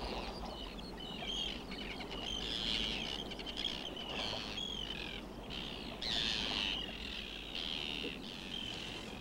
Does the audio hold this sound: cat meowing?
no